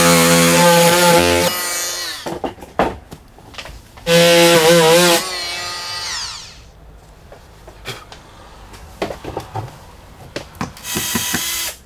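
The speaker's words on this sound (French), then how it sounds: "Scie avec un outil multifonction sans abîmer le film par vapeur." A multi-tool buzzes in loud bursts with gaps between, mixed with clatter and knocks of sawing through roof insulation material without damaging the vapour barrier film.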